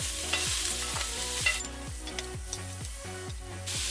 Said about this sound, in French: Et nous allons venir déposer nos oignons et nos poivrons.